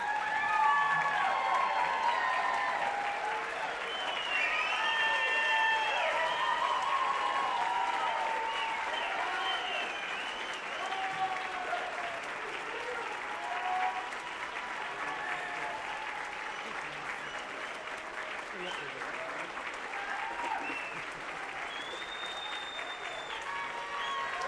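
Sustained applause from an audience at a union honoring ceremony welcoming a retiring president emeritus to the stage, a dense steady wash of clapping with some cheering that continues for the whole stretch, gradually easing.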